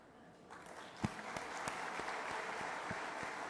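Applause from an audience at a market analyst awards ceremony, starting thin with a few scattered claps, then building into a steady moderate round of clapping.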